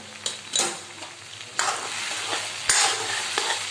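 Masala okra with salt being stirred in a pan, a few distinct scraping stirs over a soft background sizzle, close and clear.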